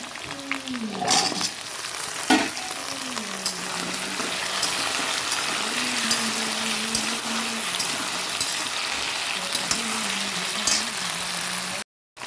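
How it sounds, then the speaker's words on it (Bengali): Onions fried a little too long in a pan give a constant close sizzle, with a low droning hum and a couple of sharp clattering knocks. "পেঁয়াজটা একটু ভাজা বেশি হয়ে গেছে"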